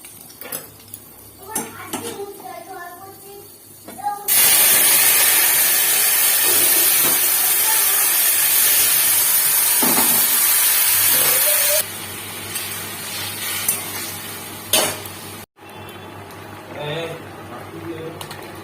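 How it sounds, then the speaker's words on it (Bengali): Black cumin, cumin, dry chilli and bay leaf hit hot oil in a wok, setting off a loud, steady sizzle that lasts several seconds before dying down, with someone talking before and after. "এবার কড়াইতে তেল দিয়ে কালো জিরে জিরে শুকনো লঙ্কা তেজপাতা ফোড়ন দিলাম"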